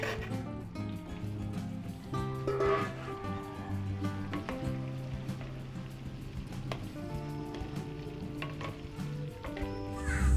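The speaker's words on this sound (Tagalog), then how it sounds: "Tapos prito naman natin yung saging." Sliced bananas fry in hot oil for a Filipino fiesta dish, a steady close crackling sizzle with sharp pops and occasional stirring scrapes, no voices over it.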